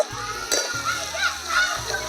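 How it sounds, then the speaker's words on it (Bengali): Shredded cabbage is stir-fried in a pan for restaurant-style Chinese noodles, producing short sizzling bursts and stirring knocks over a couple of seconds, with a faint voice in the background. "বাঁধাকপিটা একটু নাড়তে থাকি।"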